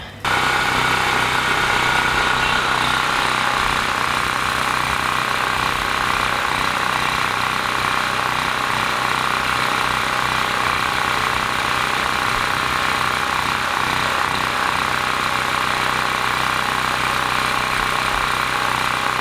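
A gasoline generator engine runs steadily at an even idle after a fuel-line repair, a loud, close, continuous drone with vibration and no break.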